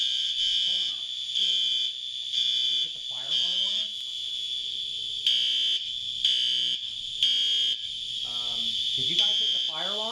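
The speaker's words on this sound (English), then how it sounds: "Did you guys hit the fire alarm?" A fire alarm sounds in loud repeating pulses, its piercing electronic tone cycling on and off near the listener while people talk over it.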